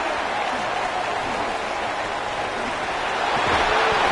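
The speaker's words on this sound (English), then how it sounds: "Very little will make a crowd hold its breath like a punt return, and he brought them to their feet on that one." Stadium crowd roaring at a football punt return, a dense, steady wash of cheering and applause that swells slightly toward the end, with commentary voices underneath.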